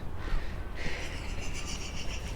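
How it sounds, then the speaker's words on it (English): A raven calls near Old Faithful Inn in Yellowstone National Park, giving a drawn-out, hoarse croaking call outdoors over steady background noise. "The raven's running away."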